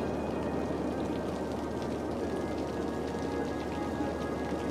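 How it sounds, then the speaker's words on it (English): Steady rain falls in the city-building game Cities: Skylines, a continuous soft hiss of drops that stays even throughout, fairly quiet, with no talking. "But hey, it's raining."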